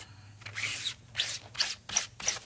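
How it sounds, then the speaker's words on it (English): Squeegee scraping across a mesh stencil laid on fabric during a wall hanger project, five rhythmic rasping strokes, close and fairly quiet, with no talking. "Hear that scraping?"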